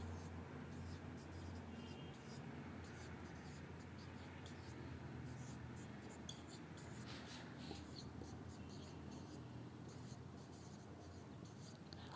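Steady scratching strokes of writing on a board run through a chemistry lesson on s-block elements, with no talk over them; the marks come in quick bursts against a constant low room hum.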